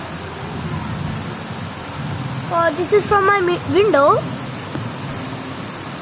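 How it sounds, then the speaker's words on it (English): Heavy rain heard from a window, a steady hiss and patter that runs the whole time while a voice talks briefly over the middle. "It's raining very heavily guys"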